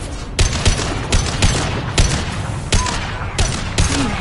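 Rapid gunfire in a Mass Effect 2 Legendary Edition firefight, with a steady run of sharp, close shots landing roughly every half second over a constant rumble of combat.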